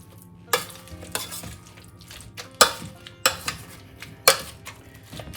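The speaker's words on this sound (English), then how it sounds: "now keep mashing it again so it mixes all the herbs and salt and pepper" Potatoes with herbs, salt and pepper are mashed in a pot, a masher striking the bottom in separate sharp knocks about once a second, with soft squelching between strikes and no talk.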